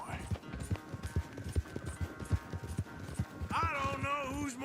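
Horse hooves clip-clop in a steady rhythm during a race in the video game Red Dead Redemption 2, mixed with a background voice, before a horse's whinny near the end.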